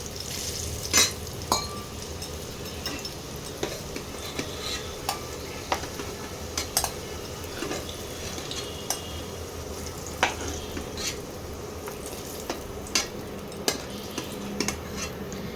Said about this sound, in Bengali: আলুগুলো এবারে সুন্দর করে ভেজে নিচ্ছি। আলুগুলো লাল লাল হয়ে গেছে, ভাজাও হয়ে গেছে কমপ্লিট।